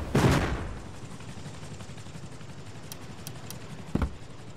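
Helicopter bombing run in a video game: one loud blast at the start, a low rumbling wash afterward, then a second sharp explosion near the end.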